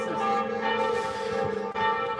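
Church bells ring out across Paris, loud and sustained with layered ringing tones that overlap and hang in the air, heard outdoors with little else around.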